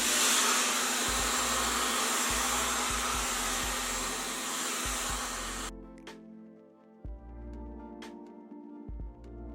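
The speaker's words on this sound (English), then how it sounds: "we're gonna go in and just diffuse. I'm going to use my Dyson." A Dyson hair dryer with a diffuser attachment runs on high speed with medium heat, a loud steady whooshing roar for several seconds before cutting off, leaving quieter handling thumps and clicks.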